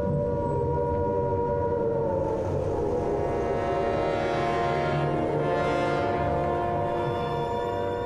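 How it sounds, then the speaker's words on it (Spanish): Air-raid sirens wail steadily across Britain at the outbreak of war in archival footage, a sustained droning tone running loud and continuous through the whole stretch, slightly rising and falling, with no voices. "En Gran Bretaña, las sirenas antiaéreas suenan"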